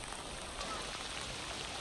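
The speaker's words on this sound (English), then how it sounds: "It's pouring rain." Heavy rain pours down in Slovenia in a dense, steady hiss with no pauses.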